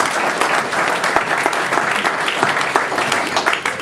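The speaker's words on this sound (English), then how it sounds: "we'd like to clap that" Audience clapping at the Orwell Prize 2011 longlist announcement, a dense steady round of many hands from a sizeable room, filling the whole stretch at an even level with no voices on top.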